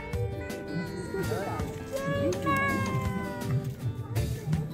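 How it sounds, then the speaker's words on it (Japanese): A cat being petted at a famous festival in Brazil gives several close, drawn-out meows, with people talking nearby. "ナンパに成功してニャンコさんを撫でてますね。"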